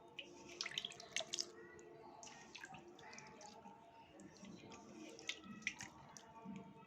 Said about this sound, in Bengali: আমার গোপসোনা কেমন করে চান করছে